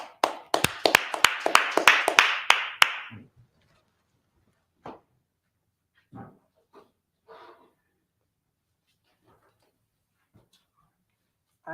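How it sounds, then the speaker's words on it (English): An audience claps together in a burst of sharp, rapid hand claps that stops after a few seconds, followed by scattered faint knocks and small noises in an otherwise quiet room. "Clap it up."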